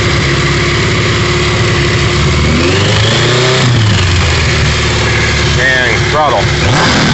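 Small engine running steadily after the choke is set, a close, loud, continuous rumble with a few rises in revs, while a voice talks over it now and then.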